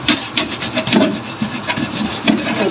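A dirty frying pan is scrubbed hard, with quick rhythmic back-and-forth scouring strokes that rasp loudly and steadily at close range throughout, with no voices.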